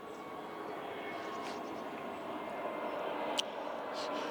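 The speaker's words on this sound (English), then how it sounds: "Sorry about the aeroplane noise." A fixed-wing aeroplane flies over near an airport, a steady broad engine roar rising slightly over several seconds behind a garden plot, with a brief sharp click near the end.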